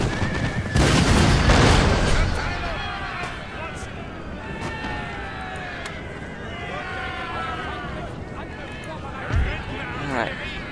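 Cavalry horses in the battle game Napoleon: Total War whinnying repeatedly amid booming musket and cannon fire and galloping hooves, several overlapping neighs across the scene, with a heavy blast early and a voice talking over the battle.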